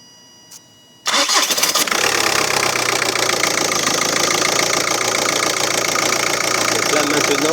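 A 2-litre 140 hp TDI diesel car engine cranks briefly and catches after a second of near silence, then settles into a loud, steady, clattering idle with constant knocking texture.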